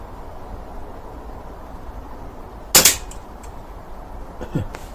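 A Baracuda 15 air rifle fires one sharp, loud crack near the middle, followed a moment later by a fainter second snap, with only quiet outdoor background around the shots.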